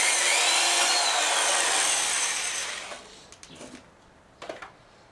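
A power drill bores holes at the ends of cracks on a Yamaha Radian custom-build part: a loud, steady grinding whir for about three seconds, then it stops, leaving a few faint taps and clicks.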